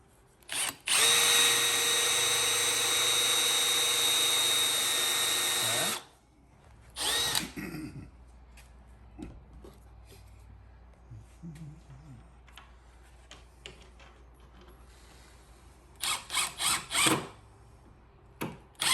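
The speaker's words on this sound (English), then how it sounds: "I can drill a hole here." A power drill bores a hole in the wall of a 7x12 cargo trailer camper conversion, one loud, steady whine lasting about five seconds, followed by quieter clicks and handling noises and a few short, sharp bursts near the end.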